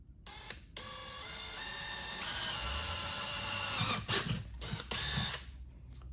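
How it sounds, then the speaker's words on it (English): A small power drill whirs steadily as it bores a little hole through a metal bracket on a 2022+ BMW K1600 motorcycle, the bit's pitch rising partway and ending in a few short stuttering bursts. "You can drill a little small hole in this bracket right here"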